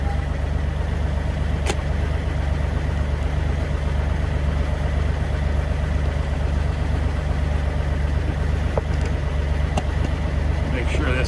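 An excavator at an off-grid farm after storm damage idles with a loud, steady low diesel rumble, unbroken from start to finish, with a couple of brief clicks over it.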